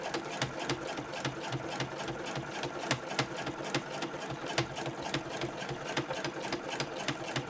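A sewing machine stitches a liner piece to a zipper pocket back piece, running in a fast, steady rhythmic chatter of needle strokes with small pauses, close and clear, no talk.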